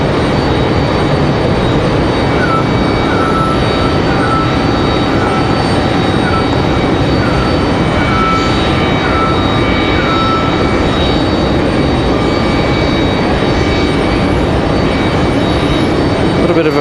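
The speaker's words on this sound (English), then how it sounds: "That last departure, Republic Airways 4690, headed to" A Republic Airways airliner departing Raleigh-Durham airport on a breezy afternoon gives a loud, continuous jet engine roar with a tonal whine, steady across the whole stretch and heard alone.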